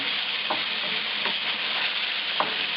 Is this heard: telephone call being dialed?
no